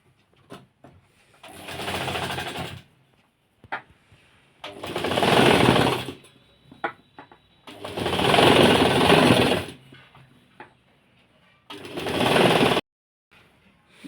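A sewing machine stitches a sleeve onto a blouse in four loud, rapid bursts of several seconds each, with short quiet pauses and faint handling clicks between them.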